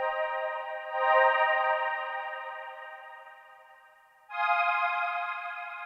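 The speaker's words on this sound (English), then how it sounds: "with the pedal off, this synth sounds like this." A synth with the Tensor effects pedal bypassed plays sustained harmonic tones: one long, loud note fading slowly, then a second, higher note entering cleanly, dry and with no other sound.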